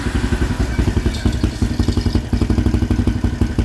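Motorcycle fitted with a CV1 carburetor idling with a leaking exhaust, close and loud, its rapid uneven chugging pulses carrying a loose puffing rattle throughout.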